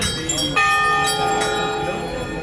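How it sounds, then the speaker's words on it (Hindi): Metal temple bells at the Maa Dhari Devi temple are struck repeatedly, bright ringing strikes with long sustained tones that overlap, loud and close, with a voice talking underneath. "बजा रही है घंटियाँ"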